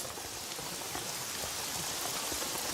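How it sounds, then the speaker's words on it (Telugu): Steady rain falls in a soft, even hiss with scattered droplet patter, faint and continuous with no one speaking. "వర్షం పడుతుందమ్మా"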